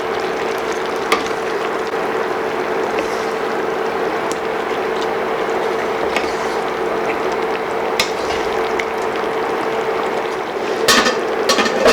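Pineapple chicken adobo being stirred in a pot, a steady scraping and sloshing texture over a constant low hum, with a few sharper knocks near the end.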